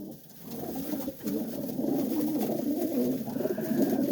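Young racing pigeons in a loft coo in soft, overlapping low murmurs, a steady close chorus with no talking.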